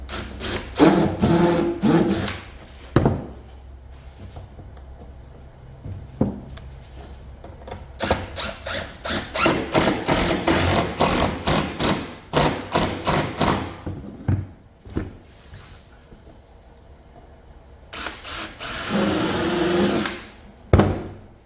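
Power drill driving 3-inch screws into wood on a passive solar heater build, in several bursts of whirring with pauses between, loud and close, no talking.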